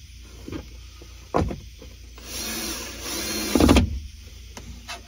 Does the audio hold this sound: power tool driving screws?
yes